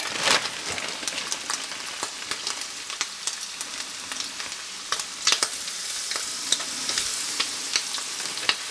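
Steady, crackling sizzle of coated walleye fillets frying in hot oil, with dense popping bursts throughout and no talking.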